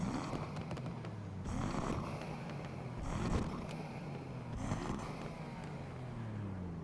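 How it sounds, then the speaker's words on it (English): A Nissan Skyline R33 engine revs in repeated surges in the video game Need for Speed Unbound, its pitch climbing and falling with each push of the throttle, steady and close with no talking. "let's give it some revs"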